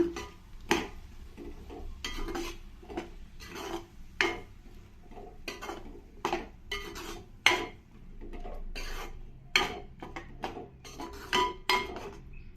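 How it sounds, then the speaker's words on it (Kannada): A spoon stirs masala and turmeric in a metal pot for drumstick pulao, giving sharp irregular clinks and scrapes against the pot over a quiet background, close by and with no talking. "ಮಸಾಲೆ ಹಾಕಿದ್ಮೇಲೆ ಹಾಗೇನೆ ಒಂದು ಅರ್ಧ ಸ್ಪೂನಷ್ಟು ಅರ್ಶಿನ ಸೇರಿಸ್ಕೊಳ್ತೀನಿ ಇದನ್ನು ಒಂದ್ಸಲ ಮಿಕ್ಸ್ ಮಾಡೋಣ"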